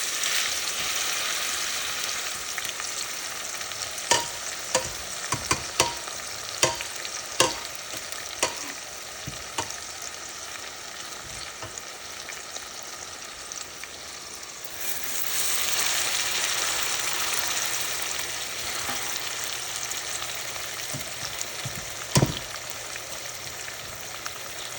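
Oxtail pieces browning in a hot pan give a continuous close sizzle and frying crackle, broken by sharp clinks and scrapes as the meat is stirred and turned, with no talk.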